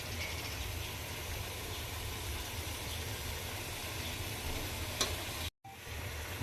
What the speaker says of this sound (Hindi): अब हम इसकी अच्छे से भुनाई करेंगे